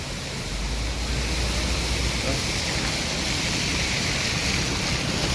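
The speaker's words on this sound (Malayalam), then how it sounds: "വെള്ളം പോകുന്നുണ്ട് അതിലിതാ" Floodwater rushes through Chattanchal in Kasaragod during a severe flood, the water having changed course; a loud, steady, unbroken roar of flowing water fills the whole stretch.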